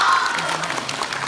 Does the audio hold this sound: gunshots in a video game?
no